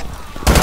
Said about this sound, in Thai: ทำไมมันระเบิดตรงนี้วะ